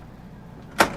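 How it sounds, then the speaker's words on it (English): A wide double pocket door in the bedroom of a 2018 Hurricane motorhome slides once, giving a short, fairly loud rolling clack after a quiet stretch. "the bedroom has its own double pocket door here because it's a big"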